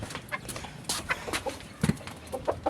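An Aseel rooster stands on a ladder and gives short, soft clucks at irregular intervals, close by, with a few faint rustles between them.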